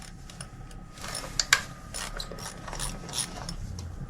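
A ratchet working to loosen spark plugs on a Hyundai Elantra, quick close clicking of the pawl in short bursts with a couple of sharper metallic knocks, no talking.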